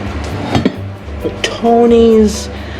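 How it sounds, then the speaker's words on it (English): Eggs being stirred in a bowl beside a pan of hot oil, heard as clinks and taps of a utensil against the dish, followed by a brief ringing tone, close and fairly loud, with no one speaking. "Eggs. So I'm going to stir that up."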